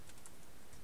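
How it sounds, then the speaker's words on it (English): Typing on a computer keyboard to enter a forum web address, a quick run of soft, close key taps under a steady background hiss. "So you type that in."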